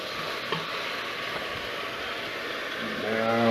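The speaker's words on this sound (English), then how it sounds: "it's starting to sizzle, not boil." Vegetables sizzle in a pot of reduced veggie stock on a burner, a steady soft frying hiss with faint clicks and stirring, rising slightly toward the end, no voices.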